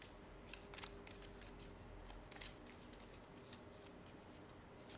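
Tarot cards being shuffled and drawn, with soft papery riffles and light flicks repeating quietly and close by, and no talk over them.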